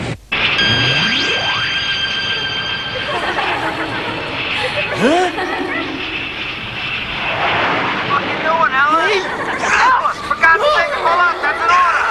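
An aircraft roars loudly as it comes in to land in the 1994 anime film GenoCyber, with shouting voices and chaotic noise over the continuous engine drone.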